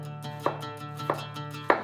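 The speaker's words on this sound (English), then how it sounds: "now I can start dicing" Sharp knife dicing a bunch of fresh parsley on a board for Lebanese tabbouleh, three crisp chops spaced about half a second apart over a low steady hum.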